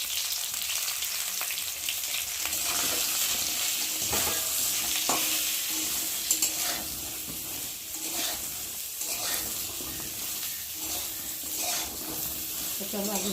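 Pieces of pointed gourd (potol) fry in oil with salt and turmeric, giving a steady close sizzle and crackle with occasional spatula scrapes throughout.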